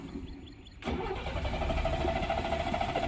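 A 1967 AMC Rambler American with the 199 cubic inch engine cranks and fires after its carburetor was refilled with fuel. The engine catches abruptly after a quiet moment, then runs loud and steady close by.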